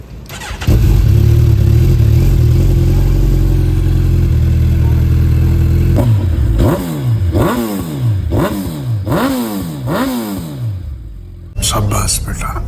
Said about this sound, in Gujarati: તમારા બાઇકનો એટલો અવાજ છે ને કે આમાં પછી અવાજનો પ્રોબ્લેમ થાય